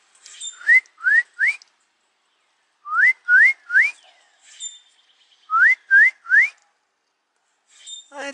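Someone whistles rising, slurred notes in quick sets of three, imitating a cardinal's song, repeated three times with short pauses between.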